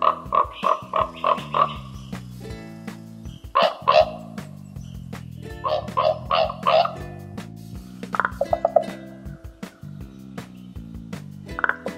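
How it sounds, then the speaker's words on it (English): A common raven gives low, hoarse croaking calls in short bursts of several notes, repeated a few times with pauses, heard fairly clearly over faint background noise. "Ravens typically have a lower, hoarse, croaking call"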